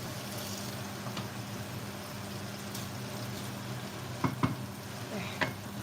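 Onion and garlic fry in a hot pan with salt and pepper, giving a soft, steady sizzle. A few light clinks and stirring scrapes come near the end.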